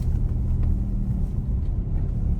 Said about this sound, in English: There goes someone on a Volvo.